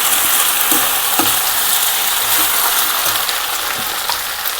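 Okra frying in a pan with tomato and ginger-garlic paste, a dense, loud, continuous sizzle close by, with soft stirring knocks now and then.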